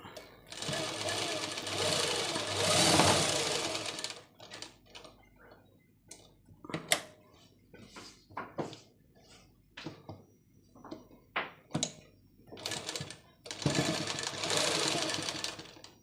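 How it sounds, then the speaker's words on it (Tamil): A sewing machine stitching a fall onto a saree runs in loud sustained bursts at the start and end, with a person talking over quieter clicks and taps in between. "இப்போ பாலிஷுக்கு தையல் அடிக்கிறோம்"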